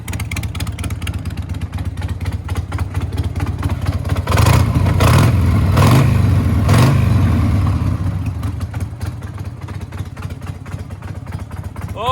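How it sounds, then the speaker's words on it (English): Clacky, worn-out Harley-Davidson Sportster V-twin with a very loud exhaust, a close, continuous rumbling idle that swells into a louder rev near the middle before settling, no voices. "I hope you can hear just how clacky this engine is"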